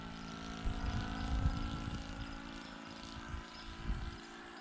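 A 28-year-old Piper J-3 Cub scale RC model airplane makes a downwind pass, its engine a steady buzzing drone that swells slightly mid-pass, with no voices.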